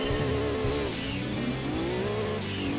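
The Lancia Stratos rally car in Gran Turismo 2 races a rally stage, its engine revving hard and steadily, pitch rising and dipping through gear changes, loud and close with no talk.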